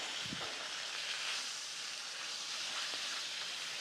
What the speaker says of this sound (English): we're gonna come in here with some of this good butter. And we're just gonna come in here and baste up this steak